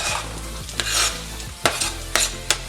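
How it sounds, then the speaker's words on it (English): Roasted potatoes and chopped vegetables tossed with olive oil in a pan, gentle sizzle under a few sharp scraping clacks of a utensil against the pan, close and alone. "I'm just gonna mix them around a bit so that they all get covered in olive oil."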